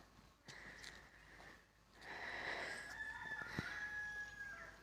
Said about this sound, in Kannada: ಕೋಳಿ ಕೂತ ಕೂಗ್ತೈತೆ